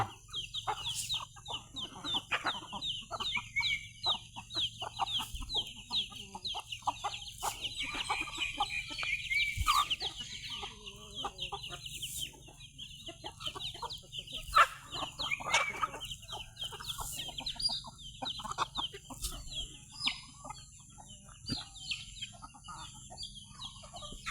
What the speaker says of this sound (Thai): ก็ไก่กินข้าวกันก็ไก่ก็ไก่ ไก่เล็กไก่ใหญ่